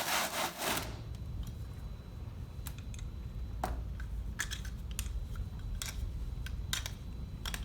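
Excess material is scraped off the outside of a mold in short, dry scrapes and clicks, spaced irregularly over a steady low background hum, close and fairly clear, with no talk.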